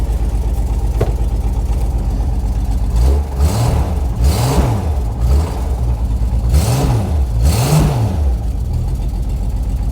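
A 1980 Jeep Cherokee Chief engine, fitted with a new carburetor, runs steadily at idle, then rises and falls through a few distinct revs before settling back to a rough, even idle.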